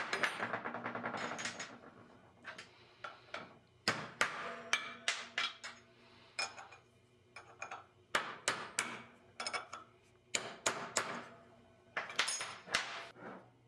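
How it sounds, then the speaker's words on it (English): A metal socket is used to smack a U-joint retaining clip into place on a drive shaft, giving a string of sharp metallic knocks in irregular bursts, close up and fairly loud. "smack it a couple times with the socket"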